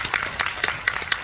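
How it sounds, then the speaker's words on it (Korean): Brief, sparse applause from a film talk-event audience for two actors, several distinct claps spaced unevenly over a soft background, moderately close. "일단 두 분에게 박수 좀 부탁드리고요."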